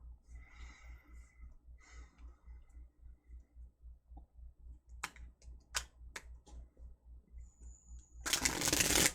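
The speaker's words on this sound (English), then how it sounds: "Let me do a shuffle." Tarot cards are shuffled by hand in soft riffles and flicks, with a sharper cluster of card snaps near the end and a burst of rustling at the close, all near and quiet.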